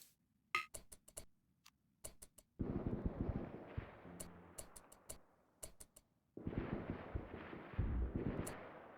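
Gunfire in RimWorld Odyssey sounds as clusters of sharp, clicky shots mixed with longer bursts of rumbling fire that arrive in two heavy stretches, loud and close, with no talking.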